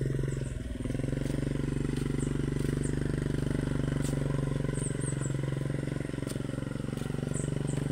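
A motorcycle engine drones steadily and loudly throughout, held at constant throttle by a learner rider, with faint clatter on top and no clear revving peaks.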